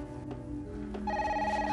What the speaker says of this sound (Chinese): 那是电话啊，不是门铃